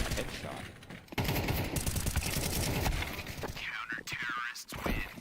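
Rapid bursts of gunfire crackle through a Counter-Strike esports match, dense and continuous, layered under a commentator's excited talk and crowd-like noise.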